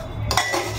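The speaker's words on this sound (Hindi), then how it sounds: "तो अब करते हैं बर्तनों की सफाई।" Dishes and cutlery are washed in a home kitchen: running water with sudden metallic clinks and clatter of utensils, close and fairly loud.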